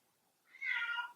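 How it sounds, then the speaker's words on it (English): A cat meows once indoors, a single drawn-out call rising and holding for about half a second, fairly faint and alone with no talk. "If you can hear any crazy meowing in the background"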